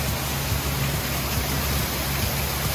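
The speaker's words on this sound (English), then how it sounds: "It's starting to rain even harder." Heavy tropical-storm rain pours down in a dense, steady hiss that never lets up, with no voices.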